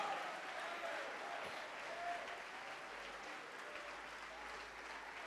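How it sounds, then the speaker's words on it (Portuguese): A church congregation claps steadily, a dense, even wash of applause that holds at a constant level throughout. "vamos aplaudir mais ao nome do Senhor"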